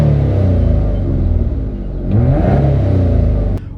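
A 1999 Mitsubishi 3000GT VR4 with a twin turbo V6 revving hard, a loud deep rumble climbing and falling in pitch through two throttle pulls before cutting off abruptly near the end.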